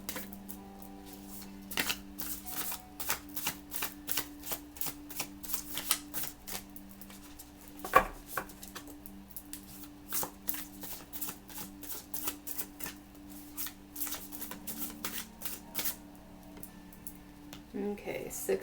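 Tarot cards being shuffled by hand, a long run of quick, crisp riffling flutters and snaps in repeated bursts, close to the mic, with a soft voice occasionally heard in between.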